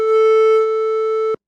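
A steady electronic telephone call tone for a radio call-in line, one continuous loud pure beep holding for over a second before cutting off abruptly.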